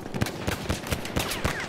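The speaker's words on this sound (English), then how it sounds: "That's an enemy machine gun." An enemy machine gun firing in the World War I shooter Battlefield 1, a rapid burst of about eight sharp, evenly spaced reports, fairly close and loud with no talk over it.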